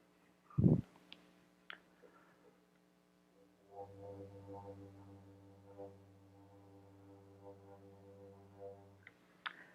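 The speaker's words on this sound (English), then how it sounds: "I thought I'd sort of introduce the Fujara a bit, and then I'll play a couple things" A deep, breathy fujara overtone flute drone holds a low sustained tone for several seconds, with a soft thump and faint clicks before it begins.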